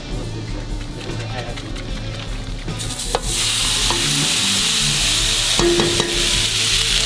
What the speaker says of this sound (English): We're gonna stir fry up this steak.